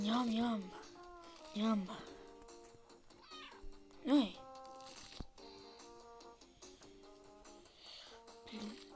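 A kitten character meows in a video game with rats around, giving several short high mews between tonal game music and effects.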